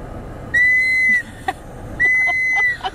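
A child blows a toy whistle: two clear, steady shrill tones, each about half a second long, with short chirps after each, close by in a quiet room.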